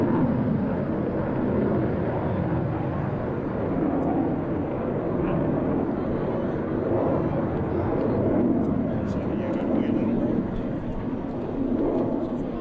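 A US Navy Blue Angels jet roars steadily overhead during an airshow climb and roll, a broad, constant engine rumble heard at a distance with faint announcer talk beneath it.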